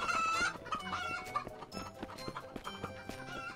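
Clucking chicken in the party game Who's Who?, loud and busy, with repeated squawky clucks over game music and effects and no talking.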